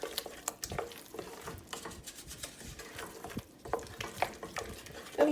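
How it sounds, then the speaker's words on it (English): Carrot soufflé mixture being stirred in a bowl, a steady run of close, wet scraping and sloshing strokes with small clinks, loud and alone. "And mix that up really well. Of course, I'm a messy stirrer."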